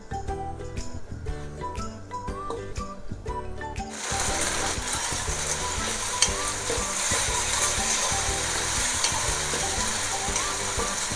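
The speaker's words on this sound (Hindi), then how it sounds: "इस चिकन को हम कम से कम 6 से 8 मिनट तक अच्छे से फ्राई करेंगे, ताकि जो चिकन का पानी निकलेगा वो ड्राई हो जाए।" Chicken pieces fry in a pan, cooking off their released water: a brief stretch of clattering stirring gives way to a steady, loud sizzle that runs on without talk.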